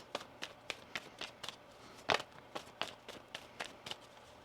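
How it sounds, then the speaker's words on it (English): Tarot cards shuffled by hand, a quick run of crisp riffling flicks in an even rhythm with one louder snap midway, close and quiet. "One more shuffle here."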